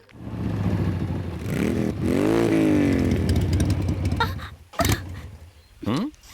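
A motorcycle engine runs and revs loudly throughout a film scene, with a rising rev near the start and brief sharp bursts near the end, over a dense layer of background score.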